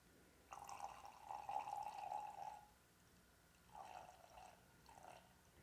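Melted candle wax poured from a Ksedcon candle melting pot makes a soft, close, liquid trickling stream for about two seconds, then two shorter pours follow after a pause, with no talking.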